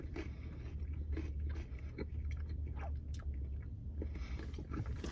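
Flaming Cheetos Smoky Ghost Pepper snacks chewed close to the mic, soft repeated munching and faint crunches in a steady rhythm over a low background hum, with no talking.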